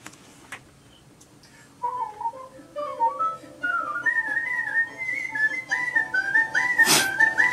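A contest-winning whistler performs the Turkish March, a clear, bright melody that starts after a quiet moment and speeds up into rapid ornamented runs, heard alone and close.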